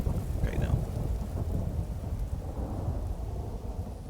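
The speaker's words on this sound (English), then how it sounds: "Going far enough away to run away from the storms." Thunderstorm with steady rain in the video game Vintage Story, a dense continuous roar of rainfall with low rumbling thunder throughout, loud and close with no talking.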